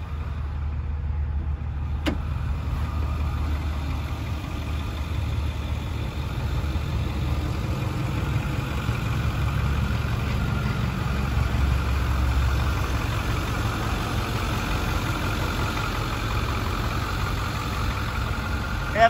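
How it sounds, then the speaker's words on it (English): A Ford F-250 Power Stroke diesel four-wheel-drive truck idles steadily, its low engine rumble continuous and even throughout, heard close with no talking. "F-250 Power Stroke"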